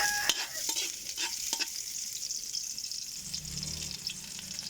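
Garlic and onion frying in a pan, a continuous crackling sizzle with a few sharp stirring knocks early on, steady and close throughout.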